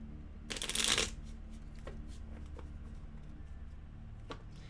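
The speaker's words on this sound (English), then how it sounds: "So I'm going to shuffle these a bit." A deck of artifact cards for the Mutant Year Zero tabletop game is shuffled in one quick riffle, followed by a few soft card taps and handling sounds.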